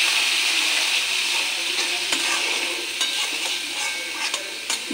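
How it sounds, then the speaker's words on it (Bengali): A spatula stirs fried spice paste with turmeric and salt in a pan, giving steady close sizzling with scraping strokes and a few sharp clinks against the metal. "এখন পরিমাণ মতন হলুদ দেব, একটু নুন দেব। হলুদ আর নুনটা মিশে নিই।"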